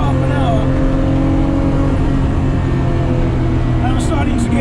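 Datsun 240Z with a swapped RB26 engine making 645 wheel horsepower, driven hard with a loud, steady engine drone and road rumble from inside, and a voice speaking over it.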